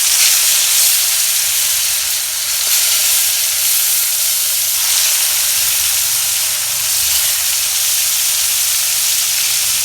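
Ripe koi fish dropped into hot oil in a village kitchen, giving a loud, continuous hissing sizzle with steady bubbling spatter, close up and without speech.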